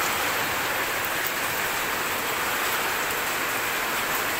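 Heavy rain and strong wind lash a house during Typhoon Ulysses, a dense steady roar of downpour, close and loud, unbroken throughout with no voices.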